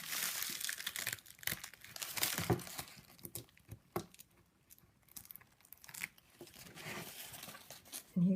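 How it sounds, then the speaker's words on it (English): Water-soluble embroidery stabilizer is torn away from a finished in-the-hoop ladybug zipper purse, giving close, irregular bursts of tearing and crinkling separated by quieter pauses. "we're going to now remove the water soluble"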